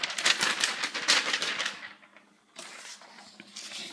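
Crisp rustling and crinkling of a normal sheet of paper being handled, loud and close, with a brief quiet pause before more rustling.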